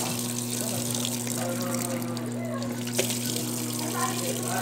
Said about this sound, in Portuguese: Vou colocar água aqui para limpar aqui onde o cloro passou.